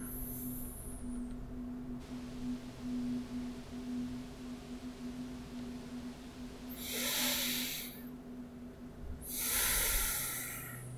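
Calm breathing of the player character in Kena: Bridge of Spirits, two slow hissing exhales a few seconds apart, soft and close, over a quiet outdoor ambience with a steady low tone.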